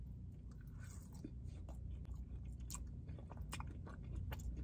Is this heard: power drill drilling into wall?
no